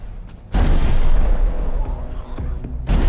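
A loud, booming shotgun blast in the video game Tainted Grail: Fall of Avalon, a sudden heavy burst with a rumbling tail, followed near the end by a second sharp boom.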